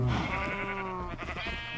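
A single sheep in Minecraft's SevTech Ages modpack lets out a wavering bleat lasting under two seconds, clear and close, with no talk.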